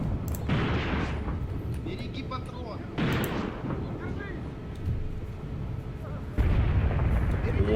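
Heavy artillery fire in the tank-battle game Graviteam Tactics: Mius Front. Three loud booming blasts land a few seconds apart over a continuous rumbling battle bed, with indistinct voices mixed underneath.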